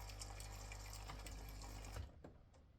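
Saeco Incanto espresso machine pump buzzing steadily as it draws water, a close mechanical hum with faint trickling that cuts off abruptly near the end, leaving a few small clicks.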